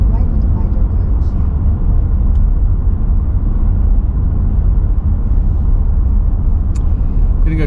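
A car driving through the Swiss Alps near Lauterbrunnen: a loud, steady in-cabin engine and road rumble that continues unbroken, with occasional faint clicks over the drone.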